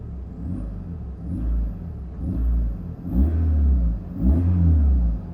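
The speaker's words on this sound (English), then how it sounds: "let me kind of give it some revs, and you can kind of hear." A car engine is revved repeatedly in four or five rising and falling pulls, each a loud, deep surge that drops back between blips, heard up close.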